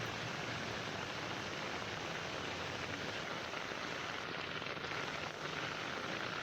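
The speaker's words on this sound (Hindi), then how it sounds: "किस तरह से दिल्ली में मूसलाधार बारिश, जगह जगह जल भराव" Heavy monsoon rain pours down steadily in Delhi, a dense, even hiss of drops hitting streets and surfaces with no pauses and no voices.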